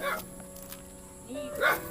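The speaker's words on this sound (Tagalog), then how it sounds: "May aso." A dog at a house during a parcel delivery in the Philippines gives a couple of short barks and a yip, close by, mixed with people talking and background noise.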